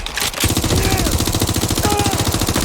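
Rapid automatic gunfire in the video game Watch Dogs: Legion, a loud continuous burst of shots running almost the whole time, with weapon tones and effects sweeping over it.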